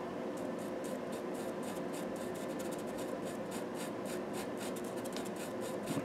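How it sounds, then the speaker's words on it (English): Pastel chalk rubs and scratches steadily across paper while a portrait is drawn, a continuous close, soft scraping texture with repeated strokes and no voices. "we need more more more of this uh, chalk on the paper"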